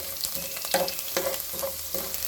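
Close, continuous sizzling of chopped garlic frying in sesame oil in a pan, with occasional stirring scrapes and crackles.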